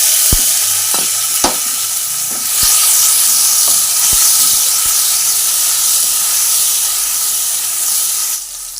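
Tomato paste and green chillies sizzling in a hot pan, a loud steady hiss of frying with several sharp clicks from stirring, continuing alone with no talk.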